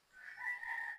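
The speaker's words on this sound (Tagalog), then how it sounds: "yung puting tengang tandang na yan" A single white-eared gamecock rooster crows once, a short faint cock-a-doodle-doo in an otherwise quiet rural setting.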